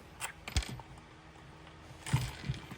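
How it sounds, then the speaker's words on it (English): Screws being loosened on a Bosch Bulldog Xtreme hammer drill, a few short close mechanical clicks and scrapes with quiet gaps between them. "Loosening these screws a little more."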